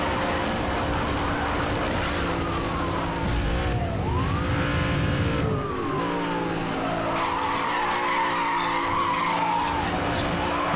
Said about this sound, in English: Bust out these mad drifts right through here